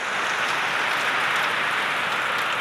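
A torrential Konkan downpour keeps up an unbroken, loud hiss of rain drumming on the ground and roofs nearby, alone without speech.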